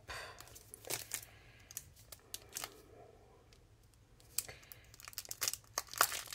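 Close, sharp crinkling and tearing bursts come from taped vinyl plastic packaging being opened by hand, with irregular crackles and quiet pauses between them and no one speaking.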